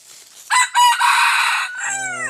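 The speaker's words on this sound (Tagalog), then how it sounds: "binabalik-balikan to mga ka-hunter dahil may kagandahan yung tilaok niya." A rooster crows once, close and loud, with a long, strained, harmonic call that wavers and breaks near the end, with no talk over it.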